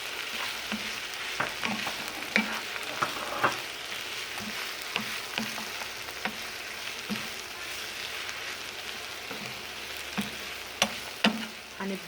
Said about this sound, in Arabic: نحرك عبال ما اللي هو البازيلا تاخد شوية مع البصل والفلفل الرومي.